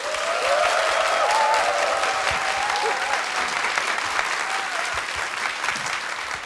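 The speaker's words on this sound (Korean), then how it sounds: "박수로 맞이해 주세요" An audience at a Korean economics talk event applauds to welcome a professor to the stage, loud dense clapping sustained throughout, with music tones running faintly underneath and no speech.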